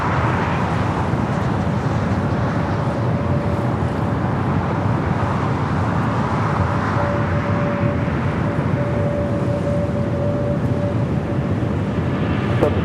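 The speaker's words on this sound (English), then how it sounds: "the Hawaiian A330 heading to Honolulu, now rolling down to 25 right" A Hawaiian Airlines Airbus A330 bound for Honolulu rolls down runway 25 right at Los Angeles International Airport, a steady, even broadband roar that holds at constant loudness throughout, with no voices heard.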